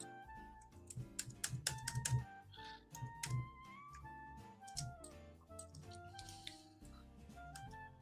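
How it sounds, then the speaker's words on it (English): Keys clack on a computer keyboard, scattered light taps and clicks at an irregular pace over a soft background of steady tones and a faint hum. "if you just hit X on the keyboard, it'll switch from black to white"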